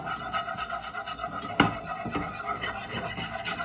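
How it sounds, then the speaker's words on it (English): Metal whisk scraping and stirring flour into a roux in a pot over medium-high heat for baked macaroni and cheese, a steady close rasping rub with one sharper clack midway. "And we are going to whisk."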